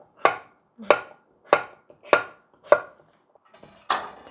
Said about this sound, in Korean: 좀 재밌게 이렇게 지그재그로 썰어 주시면 돼요